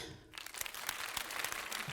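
Steady applause from a crowd, a dense wash of clapping that starts after a brief quiet moment and continues evenly throughout.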